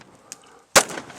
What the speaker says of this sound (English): Must have shot an extra round there.